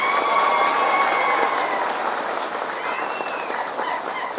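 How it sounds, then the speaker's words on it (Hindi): Applause fills a large public gathering at a Chandrashekhar Rao political speech as a resolution is put to the crowd, a dense, steady roar of many hands clapping together that slowly eases but keeps going throughout. "सभा एकजुट होकर एक मुट्ठी से तालियां बजाएं"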